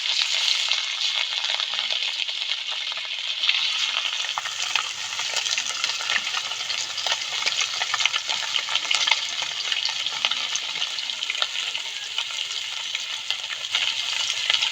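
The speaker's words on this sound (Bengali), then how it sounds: "তেল গরম হয়ে গেছে মাছ দিয়ে দেবো" Fish (rohu) frying in hot oil in a kadai: a loud, continuous crackling sizzle with steady popping throughout, close up, no talking.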